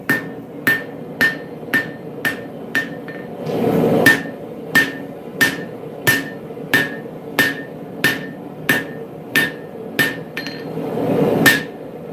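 Hammer blows ring out on hot steel over an anvil while a Bowie knife is forged, about sixteen sharp, evenly spaced metallic strikes, close and loud, with a brief roaring pause between groups.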